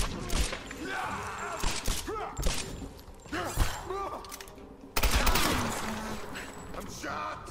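Gunfire in the video game Tomb Raider: sharp shots and short bursts crack out repeatedly across the clip, with one heavier blast near the end, over game ambience and effects.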